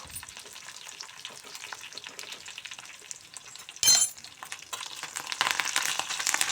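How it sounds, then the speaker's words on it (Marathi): Curry leaves crackle and sizzle in hot oil alongside roasted green chillies for a dhokla tempering, a soft steady frying hiss broken by a sharp burst of spattering midway, then louder crackling toward the end. "कढीपत्ता व्यवस्थित तडकू द्यायचा."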